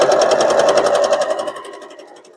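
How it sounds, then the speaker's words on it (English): A sewing machine stitches red and white quilt fabric for a patriotic flag quilt, a fast, steady mechanical whir that runs loud and close, then slows and fades toward the end. "when you're sewing red and white together"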